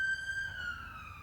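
A steady wailing siren tone holds, then slides down in pitch, loud and continuous with no talking.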